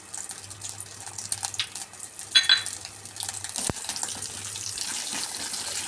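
Cashew nuts frying in ghee in a pan while making ven pongal, a soft steady sizzle with faint stirring scrapes and a brief clink, close and low in level, no voices.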